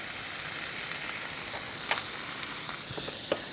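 Pork browning in oil in a pan gives off a steady, bright sizzle with occasional small pops and crackles, heard alone without talk.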